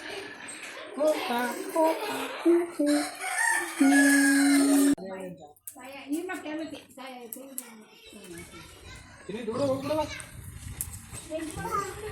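A rooster crows loudly with hens clucking around it at a green Muniyappa puja gathering, the calls repeated over a background of children playing and several people talking nearby.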